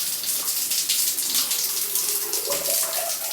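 A shower runs in a house supplied with borehole water, giving a continuous, loud, close hiss and spatter of falling water that holds steady throughout.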